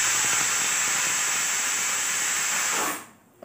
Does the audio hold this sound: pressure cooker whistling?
yes